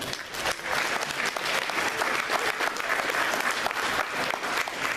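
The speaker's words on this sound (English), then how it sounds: "So give them a round of applause." Audience at an awards ceremony applauds in a sustained, dense burst of clapping that stays loud and even for several seconds.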